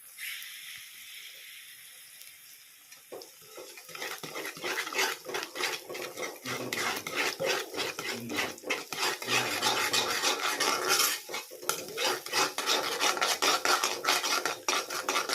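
Egg bhurji with browned onion is stirred in a pan, starting with a quiet sizzle before dense, rapid scraping of a spoon against the pan takes over, loud and continuous.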